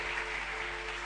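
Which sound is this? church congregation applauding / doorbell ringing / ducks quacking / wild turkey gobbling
church congregation applauding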